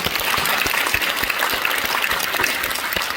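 A crowd applauds steadily and loudly throughout, dense and continuous, at a Korean church worship service in the large auditorium of the Korean Church 100th Anniversary Memorial Hall, marking the 78th Liberation Day and a church-unity resolution.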